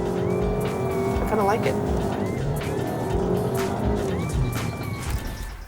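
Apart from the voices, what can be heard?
turbocharged car accelerating, turbo kicking in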